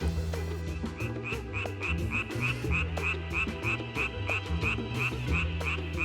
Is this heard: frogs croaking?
yes